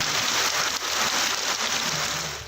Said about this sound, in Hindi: कोयटा, कल्लात और ज़ियारत समेत बलोचिस्तान के मुख्तलिफ शहरों में बादल जमकर बरसे।